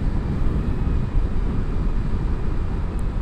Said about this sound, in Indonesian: cuma berisik wajar lah suara knalpot